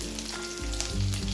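Vegetables such as chilli, onion, cabbage, capsicum and carrot sizzle steadily while being sautéed in a hot pan for veg Hakka noodles, a continuous close frying hiss with slight stirring shifts.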